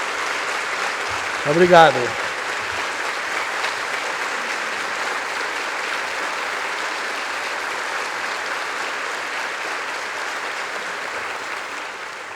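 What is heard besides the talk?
audience applause after a lecture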